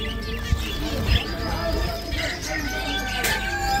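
Lovebirds chirp at a busy outdoor bird market in Baghdad's Kadhimiya district, with thin bird calls under and between nearby talk and general crowd bustle.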